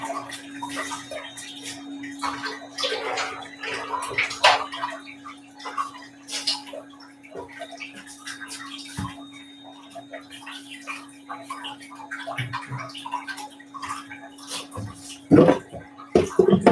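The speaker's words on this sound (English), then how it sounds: "with a pump, it's pretty easy to just have it go right into my sink" Water pumped and draining into a sink in a garage, a steady trickling flow with faint ticking and dripping under a constant hum.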